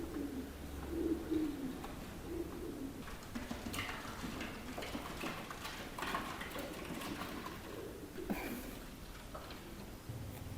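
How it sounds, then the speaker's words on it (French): Soft pigeon-like cooing from birds, faint and somewhat muffled, with scattered light taps and scratches over a low steady background hum. "il y a des, des oiseaux dans le toit"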